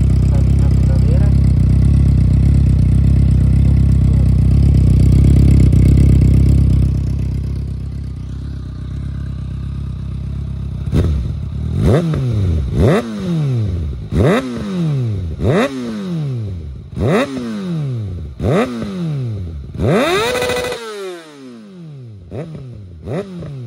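Kawasaki ZX6R motorcycle running on a bare exhaust pipe with no muffler, loud close idle drone giving way to a string of sharp, raspy throttle blips that rise and fall roughly every second, ending in a quieter idle.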